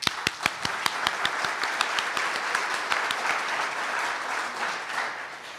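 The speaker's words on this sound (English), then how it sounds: "So give a round of applause to all of you." An audience applauds at a city event, with sharp individual claps standing out over a dense, steady patter that fades slightly toward the end.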